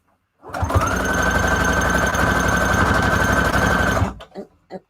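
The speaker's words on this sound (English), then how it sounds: "If it does, I'm going to sew through it." A sewing machine stitches through fabric scraps for a junk journal cover, running in one loud, steady, close burst of about four seconds, then stopping with a few soft handling bumps.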